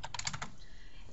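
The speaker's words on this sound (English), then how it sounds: "so you can start typing." Rapid typing on a computer keyboard, a quick burst of crisp key taps in the first half second, then a quiet room tone, close and fairly soft.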